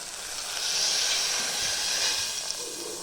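Loud sustained sizzling hiss as water hits a hot pan, swelling then easing over a few seconds, close and steady.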